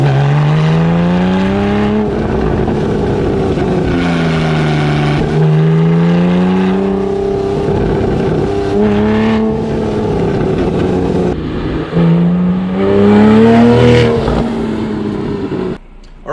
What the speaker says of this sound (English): maybe this active IPE exhaust is for you